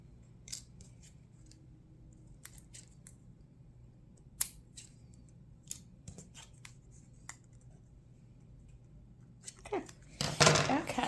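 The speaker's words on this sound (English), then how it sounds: "I'm just going to trim off any acrylic that might be overhanging" Scissors trim overhanging cured acrylic off handmade barrettes with a series of short, crisp snips spread across a quiet room, closing in a louder burst of cutting and handling at the end.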